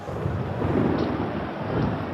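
Thunder rumbles through a storm during a 1963 rugby derby between Dax and Mont-de-Marsan, a continuous low, rolling roar with rain-like hiss, steady and broad without distinct claps.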